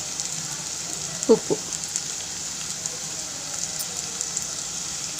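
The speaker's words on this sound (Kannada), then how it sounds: "ಎಲ್ಲ 1-2 ನಿಮಿಷ ಫ್ರೈ ಮಾಡ್ಕೊಳ್ಳೋಣ ಮಸಾಲೆ" Garam masala frying in a pan for a jackfruit seed fry gives a steady, soft sizzling hiss, with a brief clatter near the start and a single word spoken.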